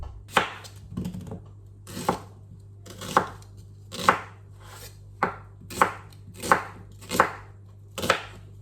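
A knife roughly chops diced onion on a cutting board, about nine crisp, evenly spaced thuds at a steady unhurried pace, close and clear with no talking.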